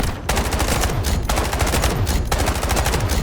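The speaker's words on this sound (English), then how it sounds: "The K437 is a beautiful weapon. It has a high rate of fire too." Rapid automatic fire from the K437 assault rifle in the shooter Delta Force, loud and close, with continuous bursts and only brief gaps between them.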